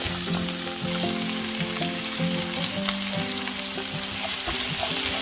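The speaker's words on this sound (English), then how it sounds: "you're gonna fry that for about a couple of minutes until the onions have softened up a bit" Salted onions frying in a pan for a meat-free lasagne, crackling with a loud, steady sizzle and a few stirring scrapes over about five seconds, with no talking.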